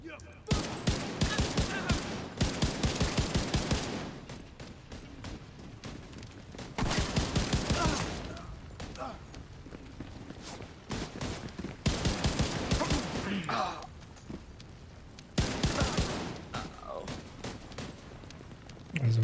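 Bursts of rifle gunfire in a shooter video game, several rapid volleys of loud shots separated by short pauses, with a voice talking between the bursts.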